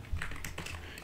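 Typing on a computer keyboard while writing Rust code: rapid, soft key clicks sound close and quiet in an irregular run, with no speech.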